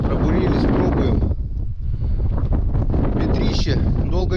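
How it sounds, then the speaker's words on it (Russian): Strong wind blows across the open ice of the Pechora River during an ice-fishing stop, roaring into the microphone as a loud, continuous buffeting rush that briefly dips before surging back. "Ветрище."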